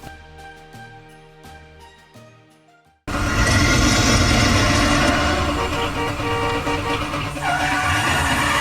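A car slides on ice in a doomsday weather disaster movie scene: quiet music gives way abruptly to a loud, sustained roar of engine and skidding noise with horns honking, dense and close throughout.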